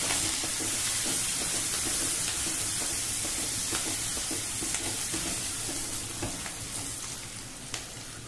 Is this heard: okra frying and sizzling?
yes